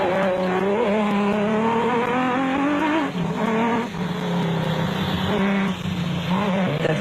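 Nissan Hardbody off-road race trucks in a South African off-road race roar with a loud, sustained engine drone whose pitch rises and shifts through gear changes, close and dominant throughout.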